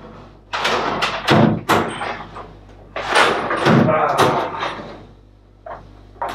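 Drawers in a home workshop are pulled open and pushed shut during a search, giving a series of close wooden slides, thumps and rattling contents in bursts, with no talk.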